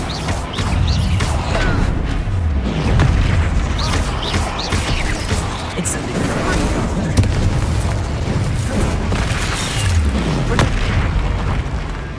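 Bombarda spell explosions in the Hogwarts Legacy video game, a series of booming blasts and bursts layered over busy game action and effects, fairly loud and repeated across the stretch.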